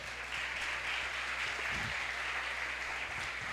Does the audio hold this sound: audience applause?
yes